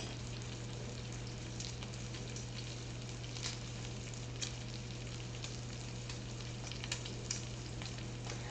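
Garlic frying in a pan for bacon jalapeno mac and cheese, a faint, steady sizzle with scattered soft crackles and pops throughout, heard alone without talk.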